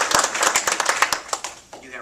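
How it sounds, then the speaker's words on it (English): A round of applause from the audience at a university athletics director announcement: dense, steady clapping with sharp individual claps standing out, fairly close and lasting throughout, thinning slightly at the end. "let's give the Formbys and the Caves a round of applause"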